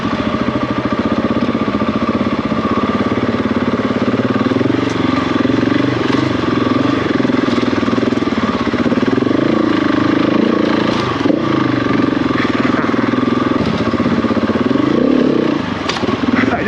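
A motorcycle engine drones continuously as the rider slips the clutch, its note swelling and easing slightly while revving under load, loud and close with a rattling clatter and no talk.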